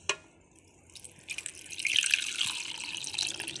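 Water poured into dough being mixed for sambusa, a thin trickle that starts faint and builds into a steady, close splashing stream, heard alone without talk.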